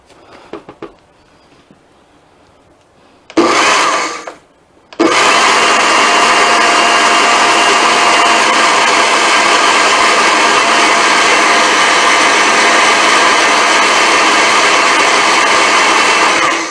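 Kitchen blender mixing dry rub ingredients, starting with a short loud whir, pausing for about a second, then running steadily and loudly for around twelve seconds after a quiet lead-in.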